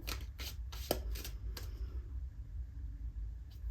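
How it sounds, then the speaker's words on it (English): Tarot cards being shuffled at close range, a few quick riffling bursts early on, then a low steady background hum with one last faint flick near the end. "Want me to shuffle some more?"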